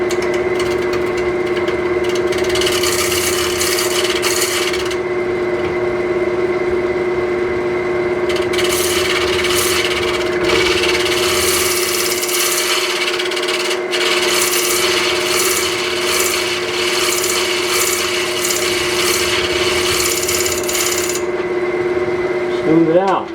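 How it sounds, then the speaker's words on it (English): A Sorby Turnmaster tool scrapes wood spinning on a lathe, a steady rasping rub over the constant motor hum, stopping and resuming in several passes. "I'm going to do a little scraping here."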